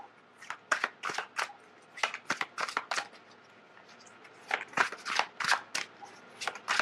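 Tarot cards shuffled by hand in a quick series of crisp riffling bursts with short pauses between, close and fairly quiet, no talking.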